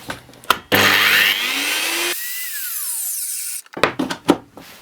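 Bosch GWS 24-230 JZ large angle grinder switched on, spinning up loudly to a high whine, then cut off and winding down with a falling tone, followed by clicks and handling knocks.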